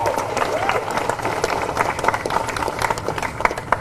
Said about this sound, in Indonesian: Sekali lagi tepuk tangan untuk media dan teman-teman wartawan